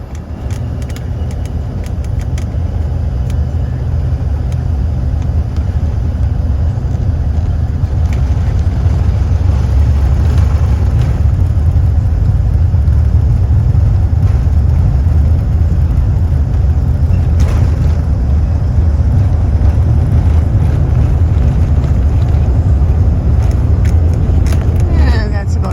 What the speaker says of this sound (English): The engines are firing up.